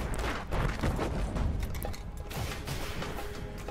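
An LMG heavy weapon in the Destiny video game fires rapid bursts of gunshots up close, loud and dense, with mechanical clatter between the shots.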